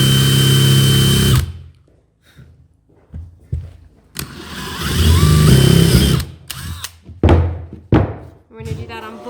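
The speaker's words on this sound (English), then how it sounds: "And then I'm going to pre-drill with a 5/16 bit." A power drill with a 5/16 bit pre-drills wood blocks, running in loud whirring bursts broken by pauses, thunks and handling noise, with talking in between.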